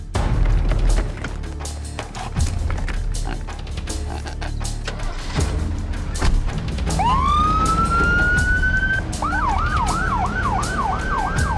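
A loud ambulance siren starts partway through, rising in a long wail and then switching to a rapid yelp, over busy traffic and clattering background noise.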